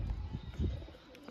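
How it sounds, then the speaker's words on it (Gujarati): Several pigeons settle and coo softly nearby, low murmuring calls repeating under faint background noise. "ઉતરી ગયા બધા કબૂતર"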